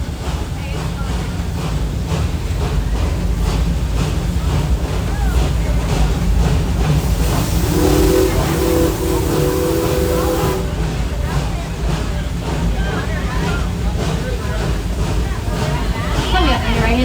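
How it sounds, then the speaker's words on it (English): A roller coaster thunders along a hollow steel track at Busch Gardens, making a continuous loud roar with deep rumble throughout. A brief tonal whine rises in the middle. "so it makes a really, really, really loud noise that resembles a roar"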